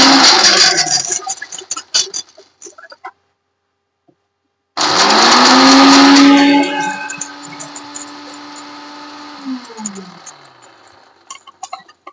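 An electric mixer grinder whirs loudly while it finely grinds mango pickle ingredients, running in bursts with a gap of silence between, then winding down with rattles and clicks.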